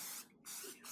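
Olive oil sprayed onto an air fryer basket in short hissing bursts, two quick sprays close to the ear with a brief gap between them.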